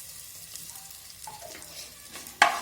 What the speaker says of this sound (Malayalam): ഇപ്പം നമ്മുടെ കടുക് വറുത്ത് തയ്യാറായിട്ടുണ്ട്